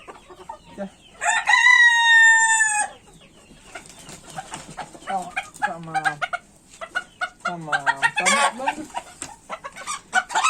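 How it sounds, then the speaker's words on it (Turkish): A lively rooster being handled for spur trimming crows loudly up close, then clucks and cackles repeatedly in short, choppy bursts, with a second crowing call near the end. "çok kıpır bir horoz."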